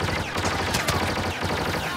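Enemy gunfire in a shooter video game rattles in dense, overlapping bursts without pause, steady and moderately loud, with no voices over it.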